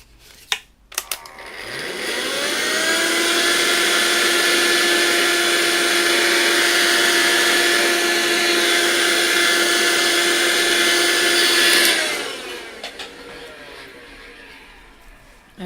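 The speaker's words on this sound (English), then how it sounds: "I just need to vacuum all of this in a minute." A vacuum cleaner sucks up pastel dust while working on Pastelbord, switching on after a few clicks and running as a loud, steady whine for about ten seconds before cutting off and winding down.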